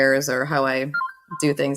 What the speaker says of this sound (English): that's my phone making too much noise